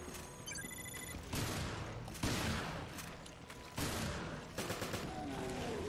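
Gunfire in the video game Resident Evil: Revelations: several heavy, booming shots ring out one after another, with short gaps between them.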